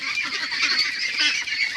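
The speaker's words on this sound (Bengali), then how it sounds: "দেখেন মাশাআল্লাহ আমাদের হাঁসগুলো" A group of farm-raised ducks quack in rapid, overlapping calls, close and loud, for the whole short stretch.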